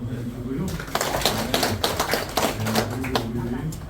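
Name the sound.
applause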